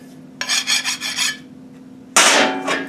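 Sandpaper rubs across the edge of a GM connecting rod for a big block Chevy engine build, making close, rasping strokes. A quick series of back-and-forth passes is followed by a louder, harsher stroke.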